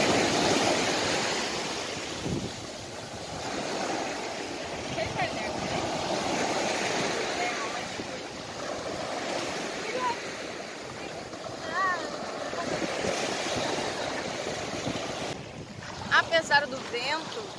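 Wind and surf at a beach in Arraial d'Ajuda, Bahia, with a steady gusty rush of wind over the waves, faint voices here and there and a brief louder burst near the end.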